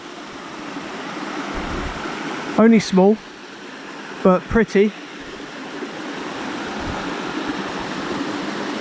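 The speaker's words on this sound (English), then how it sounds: "And this is the Pyrgad waterfall." Rushing water of the Pyrgad waterfall, one of the small southern falls in Cwm Pyrgad, a steady broadband roar running throughout with a person speaking briefly over it.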